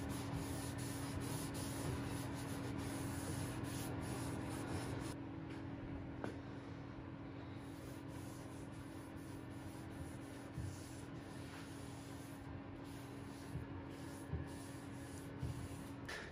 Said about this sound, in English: So I've given this a light sanding and taken off the shellac layer